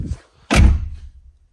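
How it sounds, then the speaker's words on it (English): A Skoda Octavia driver's door swings shut in a single solid thud with a brief rattle after it, close and loud, following a faint earlier knock. "As you close it"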